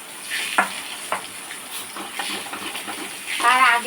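Pieces of ash gourd fry with cumin seeds in a pan, making a close, continuous sizzle broken by several scraping stirs that swell louder near the end.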